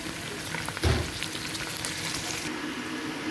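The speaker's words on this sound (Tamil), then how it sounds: "இப்போ இந்த கடலை பருப்பு ஒரு 10 நிமிஷத்துக்கு ஃப்ரை ஆகும்" Chana dal sizzles steadily in a hot pan, a close, continuous crackle with a brief louder stir-like burst near the start and no voices.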